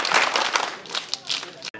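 Students welcome guests with a short burst of applause at a college scout and guide flag ceremony, the clapping dense and close, ending abruptly.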